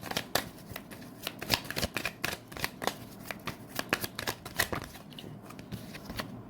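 A deck of tarot cards is shuffled briskly at close range, a rapid continuous run of papery riffles and slaps with a soft card draw, no talking.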